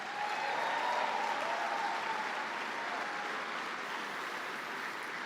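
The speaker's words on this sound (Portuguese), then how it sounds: "Dá uma salva de palmas para o ministério de louvor" A church conference congregation applauds a praise ministry: dense, continuous clapping like a wash of rain, steady and even throughout, with a faint murmur of voices underneath.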